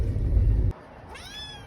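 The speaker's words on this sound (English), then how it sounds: "Now I'll feed the cats" A cat gives a single short, rising meow, faint and somewhat distant, after a burst of low rumbling handling noise.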